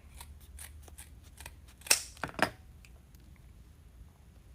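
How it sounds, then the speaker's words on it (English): Metal scissors dropped onto a floor mat while a Halloween wreath is being made: a sharp clatter of two or three quick impacts, loud and close against a quiet room, with no talking. "You dropped your scissors on the floor."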